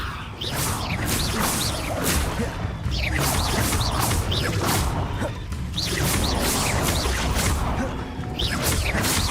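Spell casting in the video game Hogwarts Legacy, including the Levioso spell, heard as dense repeated magical whooshes and crashing impacts over continuous loud game ambience, with no talk.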